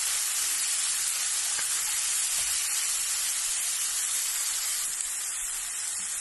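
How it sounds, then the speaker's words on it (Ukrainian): Mushrooms and pork tongue frying in a pan for beef stroganoff make a loud, unbroken hissing sizzle that stays even throughout, with no voices. "Все гарненько підсмажимо"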